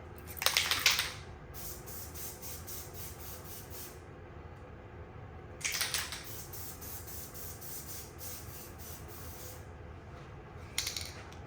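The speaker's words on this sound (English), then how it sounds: "and now I'm gonna spray these two." Three short hissing blasts from an aerosol spray can coat a paper craft beach tote, each burst a second or two long and separated by several seconds of quiet.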